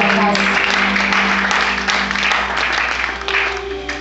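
A church congregation applauding during a worship service: steady, loud, dense clapping throughout, with a sustained tonal background and voices mixed underneath.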